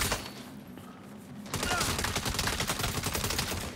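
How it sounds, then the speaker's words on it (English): Police gunfire in the Saints Row reboot, a sudden burst of rapid, continuous shots starting partway in over a quieter lead-in, loud and sustained to the end. "the cops are shooting at us"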